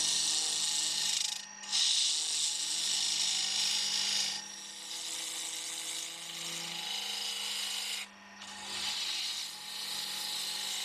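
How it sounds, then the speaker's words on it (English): A spindle gouge hollows out wood spinning on a lathe, making a steady close hiss of shaving and scraping. The sound drops out in two short pauses and then resumes with a slightly different tone. "Initially this is done with a spindle gouge."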